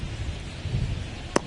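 Steady rain hisses throughout a stadium in the MLB 23 baseball video game, with a soft low rumble and one sharp tap near the end.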